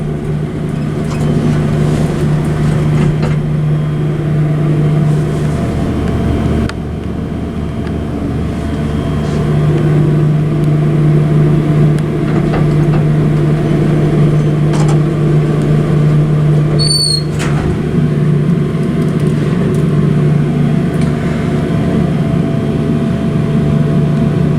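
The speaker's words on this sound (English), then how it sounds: "It's very bumpy and rattly, and it does power stop" A vintage 1960s Dover traction elevator in the Carlton Building riding between floors, a loud steady low mechanical drone and hum with rattling, a brief drop in the middle and one short high squeal near the end.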